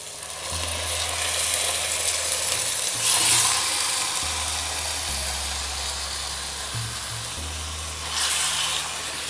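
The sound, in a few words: chicken sizzling as it is added to fried tomato and onion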